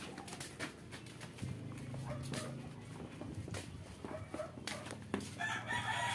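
A backyard rooster crows faintly at a distance on a quiet evening, a drawn-out call amid low ambient noise and a few clicks and knocks.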